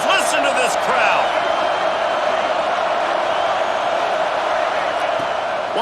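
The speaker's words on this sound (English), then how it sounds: "Listen to this crowd." Dense, steady crowd roar from a college football video game stadium fills the whole stretch, loud and continuous, with announcer-style talk layered over it.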